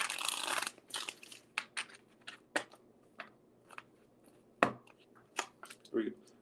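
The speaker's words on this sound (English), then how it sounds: "why can't I stop shuffling for you?" Tarot cards being shuffled by hand, producing a run of crisp, uneven clicks and soft slaps at close range, with brief quiet gaps between bursts and no talking.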